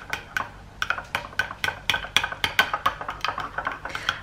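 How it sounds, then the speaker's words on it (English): Beef burger mince worked by hand in a bowl, giving close, rhythmic wet slaps and squelches that repeat steadily every fraction of a second, with no talking. "And then just mix it."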